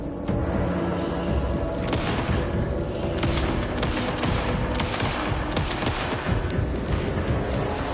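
Loud, sustained gunfire in the video game Alan Wake 2, with rapid shots and heavy booms piling into a thick, unbroken barrage that lasts the whole stretch.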